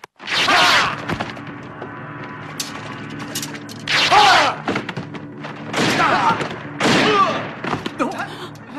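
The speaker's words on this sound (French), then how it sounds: "Des coups de feu." Several gunshots ring out in a martial-arts film scene, loud sharp bursts scattered across the clip with ringing tails, some in quick clusters, mixed with thuds.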